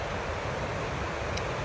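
The McKenzie River rushes through the Leaburg canal and dam near Eugene, Oregon, running high with a lot of water; a constant broad roar of flowing water fills the scene with no breaks and no talk.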